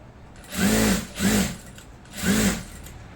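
A sewing machine runs top stitching along a salwar pant in three short bursts, each about half a second long, with brief pauses between them. It is close and fairly loud, and no one speaks.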